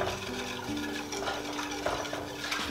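A whisk stirs apple pie filling thickened with clear gel in a pot, giving a steady, close scraping and swishing with faint metallic clinks against the pan, continuous throughout with no talk.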